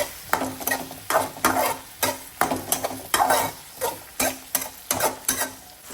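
Onion-based masala for a liver dish being sautéed in a cooking pan, a rapid rhythmic series of spoon scrapes and clanks over steady sizzling, close up with no voices.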